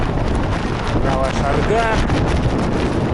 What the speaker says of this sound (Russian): А ветер как бы видно, да, по дождевику сюда дует.